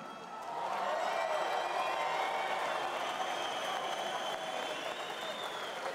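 Boxing crowd in an arena giving sustained applause with a general roar, fairly distant and even throughout, with a faint background voice.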